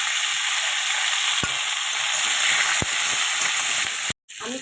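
Mango pieces and amla dropped into hot oil with black mustard seeds, giving a steady loud sizzle with a few sharp clacks of a stirring spoon and a brief break near the end.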